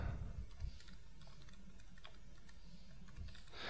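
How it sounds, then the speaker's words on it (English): Soft clicking of a computer keyboard as a password is typed, a quick run of keystrokes, quiet and close with no talking. "And then you can type in a password."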